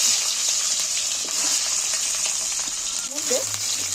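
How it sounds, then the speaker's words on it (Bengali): Potatoes frying in hot oil, a dense, loud, continuous sizzle close up, with brief stirring scrapes near the end. "আলুগুলোকে আস্তে ভালো করে ভেজে নিব"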